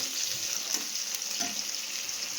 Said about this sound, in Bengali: এভাবে সব মাছগুলো আমি ভেজে নেবো